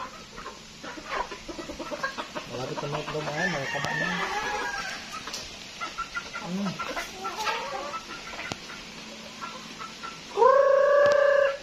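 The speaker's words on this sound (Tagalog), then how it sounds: "sobrang dami ng manok" Chickens cluck and squawk in a busy flock nearby in the provinces, with a rooster crowing loudly near the end and a person speaking briefly over them.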